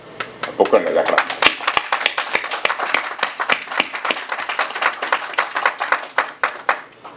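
Audience at a Liberty Festival gathering in Washington DC applauding community leaders, a dense burst of clapping close by that swells and then thins into scattered claps, with a voice speaking over the start.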